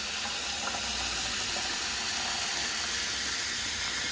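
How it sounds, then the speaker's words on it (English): Cold tap water runs into a saucepan of drained boiled eggs, a steady, even rushing hiss that continues unbroken throughout with no voices over it. "we're going to add cold water again"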